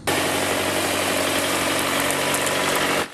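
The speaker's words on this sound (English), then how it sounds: "uses a tractor to plow through the bouncing bushes" Tractor engine running steadily while plowing through tumbleweeds in southern El Paso County, a loud, constant rumbling drone that cuts off abruptly at the end.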